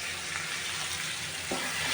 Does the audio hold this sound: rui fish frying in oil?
yes